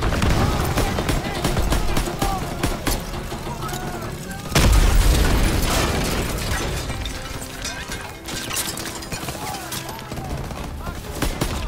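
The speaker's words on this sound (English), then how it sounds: "Tossing out a grenade!" A grenade goes off in the video game Call of Duty: WWII during a battle at the Rhine, one heavy boom near the middle that stands out from constant surrounding gunfire and battle noise.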